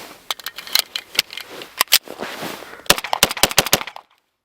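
Cold Winchester 115 grain ammunition fired in a rapid string of sharp, loud gunshots, bunched in quick bursts with brief gaps and a few single cracks, ending abruptly in silence.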